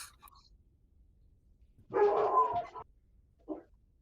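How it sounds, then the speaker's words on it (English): Dog barking outdoors on a trail, one close, sharp bark burst followed by a shorter yip after a pause, set against near silence. "That was a dog."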